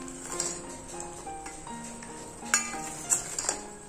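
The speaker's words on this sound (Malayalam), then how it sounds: "ഇതും നല്ല രീതിയിൽ തന്നെ ഒന്ന് മിക്സ് ചെയ്ത് എടുക്കുക കേട്ടോ" Jaggery being stirred into a herbal medicine mixture in a pan, a spoon scraping and clinking against the metal in sparse, irregular taps with a few sharper knocks.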